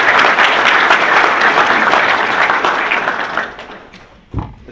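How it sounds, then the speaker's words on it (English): An audience in a program hall breaks into sustained applause, dense and loud at first, then thinning and fading out, followed by a single closing thump. "So please join me to applaud you for all the great work that you've done."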